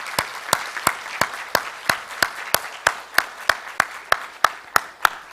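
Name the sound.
congregation applause in church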